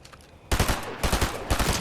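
Video game gunfire in rapid bursts: a loud sustained automatic volley starts abruptly after a quiet moment and pulses in three surges, close and dense, with no talking.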